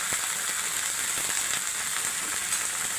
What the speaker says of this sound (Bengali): একেবারে কড়াতে মানে সাংঘাতিক আওয়াজ করছে।